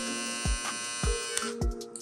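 A Suprent FS235 electric foil shaver hums steadily at close range with a buzzing motor tone, while low thumps of handling sound at regular intervals.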